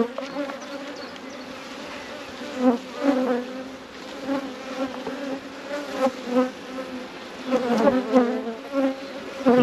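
Honey bees crawl over a beehive super frame, making a close, steady buzzing hum that swells and fades as individual bees fly near, with no voices.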